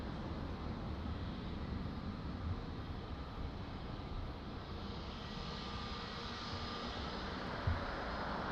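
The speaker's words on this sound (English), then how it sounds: "an excellent lofty Lufthansa coming in from Frankfurt" A Lufthansa airliner arriving from Frankfurt gives a faint, steady broadband engine roar that holds level throughout, heard from a distance with no voices.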